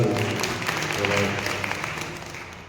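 Audience applause welcoming a guest at a religious katha gathering in Haridwar, a steady wash of clapping heard alongside a voice.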